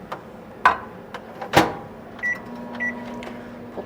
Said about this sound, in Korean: 얘도 전자레인지로 살짝만 데워서 온도 올려줄게요.